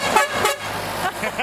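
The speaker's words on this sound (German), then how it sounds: "Also ich glaube nicht, dass der Benz so eine Hupe gehabt hat." A truck horn honks with a bright, tonal blare, loud and close, sounding in a couple of short blasts over roadside ambience.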